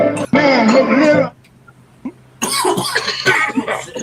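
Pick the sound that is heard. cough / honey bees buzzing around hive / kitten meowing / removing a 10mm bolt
cough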